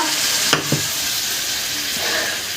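Spice paste for a Bengali rui fish curry sizzles steadily in a pan after water rinsed from the spice bowl is poured in, giving a continuous bright hiss with a couple of brief clinks early on.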